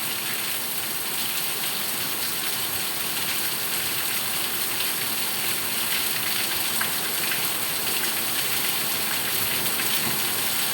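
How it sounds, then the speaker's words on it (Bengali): Heavy rain pours steadily and loudly, an unbroken wash of drops drumming on surfaces with no pauses for the whole stretch. "এত বৃষ্টি হইতেছে।"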